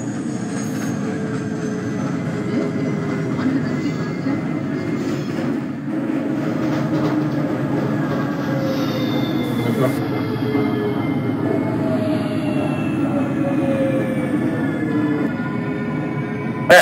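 A New York 4 subway train bound for Woodlawn runs along the track in the OpenBVE train simulator, with a continuous loud rumble, rising and falling motor whine and occasional wheel squeal throughout.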